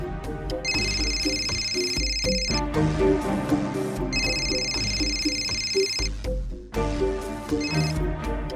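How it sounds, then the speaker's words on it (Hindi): A telephone rings in a tense TV drama scene, with repeated electronic ringtone bursts over a steady backing score, loud and close, no talk. "आरिफ का फोन था"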